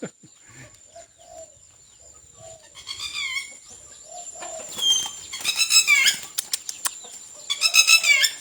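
Guineafowl inside a cage at a small village in Isan, Thailand, with soft clucks at first building to bursts of wing flapping and shrill calls, loud and close toward the end.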